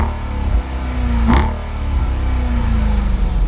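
A 2017 Jeep Grand Cherokee SRT's 6.4-liter Hemi V8 revs loud and close, one sharp blip rising and falling mid-clip over a steady idle rumble, no voices.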